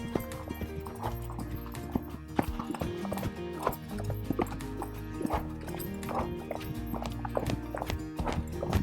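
A gaited horse under a rider moves through walk, trot and canter transitions, hooves clip-clopping in a steady, even rhythm close by over a constant background rumble.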